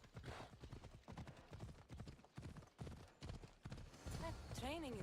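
Rhythmic clip-clop of horse hooves in Assassin's Creed Odyssey with voices talking over them, followed by a short whinny-like tone near the end.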